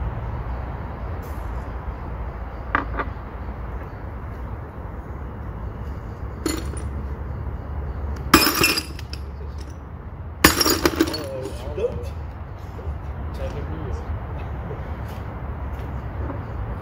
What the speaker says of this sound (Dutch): En dan mag ik nog 1 bordje kapot gooien.